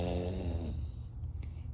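A person imitates a dad's snoring with a low, rasping snore that is loud at first and then fades into softer breathy rumbling, heard alone.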